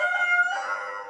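Chickens in the video game Wasteland 3 let out a drawn-out, nasal crowing call lasting about a second, clear and close with no speech.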